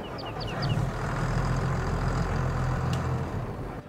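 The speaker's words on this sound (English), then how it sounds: "let's go ahead and turn the engine over." A low, rumbling video game tractor engine idles steadily and close after starting, with a few faint chirps and a brief click near the end.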